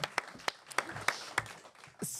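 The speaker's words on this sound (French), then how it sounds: "On peut l'applaudir dans le public." Audience clapping at a Paris marathon event: a handful of sharp, sparse claps spread out over a couple of seconds, fairly faint, with a brief burst of broader noise at the end.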